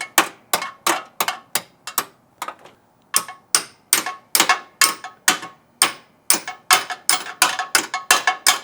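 A front body bushing bolt on a Toyota Tacoma is turned out by hand with a ratchet, producing a steady run of loud, close, rhythmic clicks with no talking.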